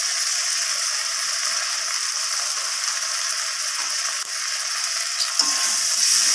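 Ginger paste fries with spices in a pan, a loud, even, bright sizzle that hisses continuously up close with a few faint scraping ticks and no voices.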